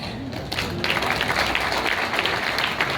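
Applause from an audience at a direct-selling leadership talk, a dense, steady patter of many hands clapping at close range, with no voices over it.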